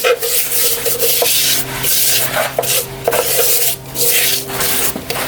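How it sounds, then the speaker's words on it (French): A brush scrubs a metal part in repeated rough rasping strokes, followed by wiping with a cloth. The strokes come loud and close in uneven bursts, with short pauses between them and no talk. "un bon coup de brosse, un bon coup de chiffon"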